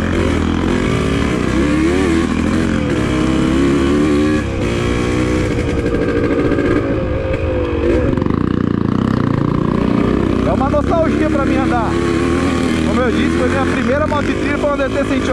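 A Yamaha DT180 two-stroke dirt bike engine labors up a steep trail hill, running steadily loud and near with wavering revs throughout.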